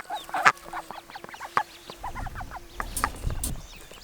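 Ducks in a compostable duck pen quack and chatter at close range, with bursts of quacking over a low background rustle and no speech.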